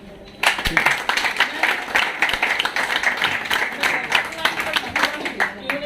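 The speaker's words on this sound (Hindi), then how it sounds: "इसके लिए जोरदार ताली" Applause at a company award ceremony bursts in after a quiet half second, then continues as lively, close clapping from a crowd, with some voices underneath.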